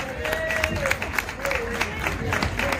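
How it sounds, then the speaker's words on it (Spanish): Audience applause at a live flamenco-style stage performance, steady broadband clapping mixed with crowd noise and a voice or sung tone running through it, moderately loud throughout. "Fuerte el aplauso para ella"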